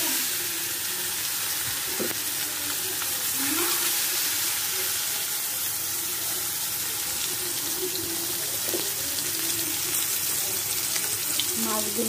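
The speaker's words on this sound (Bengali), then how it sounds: "তেলটা গরম হয়ে গেছে," Koi fish fry in hot oil in a home kitchen, giving a steady, loud, unbroken sizzle and crackle that lasts throughout, with faint clatter now and then.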